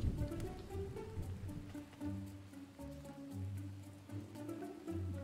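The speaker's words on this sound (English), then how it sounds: "it's raining already" Steady light rain in the video game Spirit of the Island patters over a low musical drone with sustained tones, even and soft throughout, no voices.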